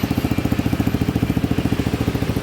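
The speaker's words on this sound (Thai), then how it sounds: "อ่าลองเบิ้ลหน่อย" A Yamaha XMAX 300 scooter fitted with an exhaust silencer runs close by, giving a steady, rapid, muffled pulsing putter throughout with no talk.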